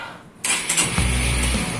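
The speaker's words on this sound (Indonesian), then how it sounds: "tap sekali lagi untuk menyalakan mesin ya, seperti ini" A motorcycle engine cranks and catches after an Arduino e-KTP card security system switches it on, a sharp start that settles into a steady close idle running to the end.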